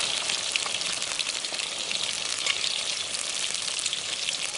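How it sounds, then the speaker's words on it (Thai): Food deep-frying in hot oil at a resort kitchen in Kanchanaburi, with a dense, even crackle and bubbling sizzle that stays loud and constant throughout. "ค่อยๆทอดไปเรื่อยๆนะคะ"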